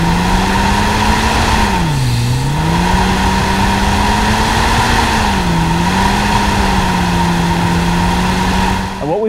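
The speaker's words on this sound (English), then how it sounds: "So our Civic Type R is back on our Dynapax. We are torture testing it." A 2017-2021 Honda Civic Type R runs on a chassis dyno during a torture test of an oil cooler, its engine droning loudly and steadily with a few dips and rises in revs.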